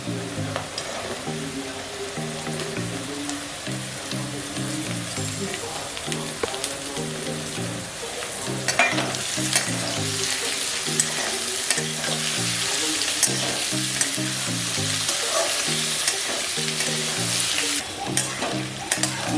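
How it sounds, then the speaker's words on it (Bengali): Carrots fry with onion in a pan, a close, steady sizzle broken by a regular scraping rhythm of stirring throughout, with no voices. "গাজরটা প্রায় ভাজা হয়ে গেছে"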